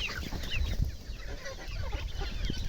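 Several young chickens cluck and peck nearby in a vegetable garden, a busy overlapping chatter of short calls with some low thumps and rustling.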